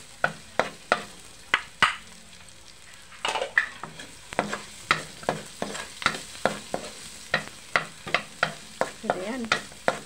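Garlic being stirred in a pan for callos, a steady run of sharp scraping utensil strokes against the pan over a faint sizzle, close and repeated through the whole stretch with no talking.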